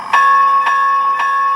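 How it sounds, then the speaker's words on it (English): Rapid automatic locomotive bell from the sound decoder of an O scale Southern Pacific AC-12 model, ringing three clear evenly spaced strikes with a sustained ringing tone between them, close and loud. "it's a fast ring rate reflecting the automatic bell ringer that was standard on these engines"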